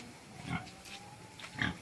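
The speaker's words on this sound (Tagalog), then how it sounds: "Ay, may malaking baboy." A big pig grunts in two low, rough bursts spaced about a second apart, fairly close, with a faint steady tone running underneath.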